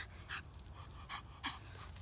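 A puppy pants in quick, breathy bursts, three clear puffs over a low steady hum of background noise, close and moderately quiet.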